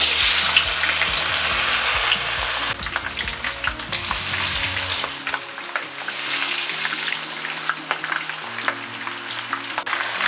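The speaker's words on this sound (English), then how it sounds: "We're going to fry the fish." Fish seasoned with lemon pepper sizzles and crackles steadily in a hot frying pan, a continuous close hiss with occasional louder pops.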